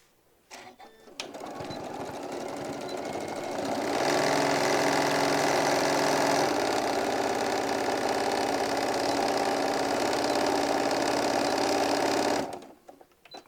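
A sewing machine runs steadily for about eleven seconds, stitching pocket lines onto a hobo bag. The motor hum is close and continuous and grows a little louder partway through, with no talk over it.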